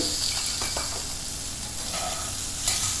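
Vegetables coated in oil, salt, pepper, herbs and masala spices roast on a flat griddle, giving a steady close sizzle with light scraping and stirring sounds and no talking.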